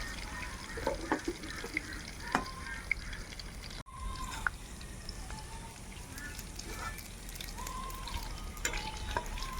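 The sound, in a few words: cumin and radhuni seeds tempering in hot oil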